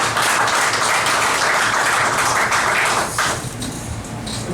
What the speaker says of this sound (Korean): 여러분 감사님한테 박수 한번 부탁드리겠습니다